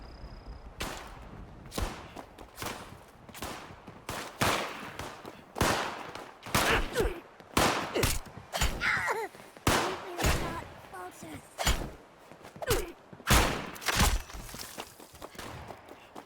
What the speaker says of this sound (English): when you swing it, there's a nice swooshing noise